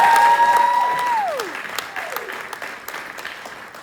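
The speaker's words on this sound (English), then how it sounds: "Round of applause for both of them." Audience applause at a theatre Q&A session about a show's design, a lively burst of clapping under a fading musical tone that gradually thins out.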